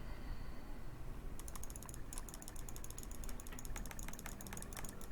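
Rapid computer mouse clicking during play of a clicker game, a dense run of sharp, close clicks in quick uneven bursts that starts after a short quiet stretch and continues steadily to the end.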